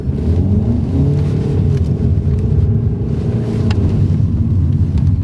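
Steady low rumble of a Kia XCeed plug-in hybrid's tyres rolling over a rough road, heard from inside the cabin, loud and continuous, with faint creaks.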